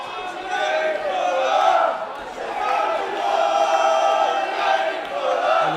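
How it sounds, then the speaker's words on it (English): A boxing crowd at a live professional fight show roars and shouts in waves in response to punches, swelling and dipping throughout, with excited voices rising from the arena. "And the crowd responding"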